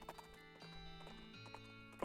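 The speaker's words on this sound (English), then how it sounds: "Horse." Clopping horse hooves with a faint whinny play from the video game West of Loathing, a steady rhythmic trot at low level over game music, with no one talking.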